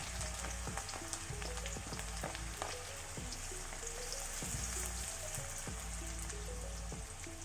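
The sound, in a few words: shallots being sautéed in a pan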